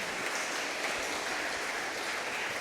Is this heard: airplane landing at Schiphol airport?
no